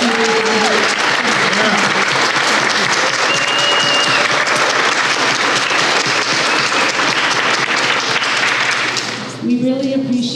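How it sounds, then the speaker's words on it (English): Sustained applause from an audience at a Lawrence city council election forum, steady and loud throughout, with a voice starting to speak as the clapping fades near the end. "let's have another round of applause for the"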